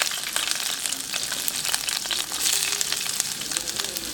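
Carrots and raisins fry in hot cooking oil in a frying pan, giving a steady, loud, close sizzle with bright crackling pops throughout.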